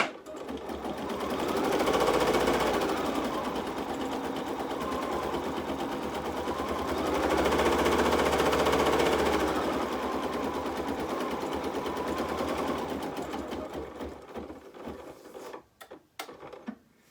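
An embroidery machine runs a tack-down stitch line over fabric, a steady loud mechanical whirring chatter that swells and eases in waves for about thirteen seconds, then stops with a few scattered clicks and handling noises.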